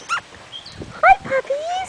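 Puppies whimper and yip in short high whines, close by, mixed with a person's soft talking.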